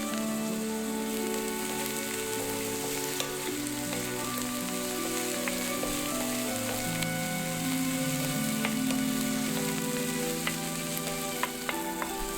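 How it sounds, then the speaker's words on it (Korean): Onion and leek sizzle steadily in olive oil in a pan, a continuous bright crackle with occasional stirring clicks and scrapes, no voices. "팬에 올리브 오일을 두르고 양파와 대파를 볶아준다"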